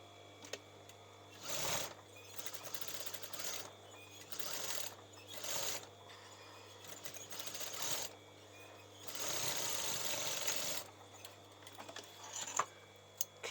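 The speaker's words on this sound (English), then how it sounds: "I'm going to do the twin needle stitching" A sewing machine doing twin needle stitching on a top, running in several bursts of rapid whirring with pauses between them, close and fairly quiet, with no talking.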